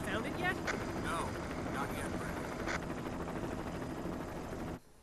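Helicopter in the Resident Evil HD Remaster game flying over a forest zone, a loud steady rotor and engine roar running throughout, with a voice talking over it, cutting off abruptly near the end.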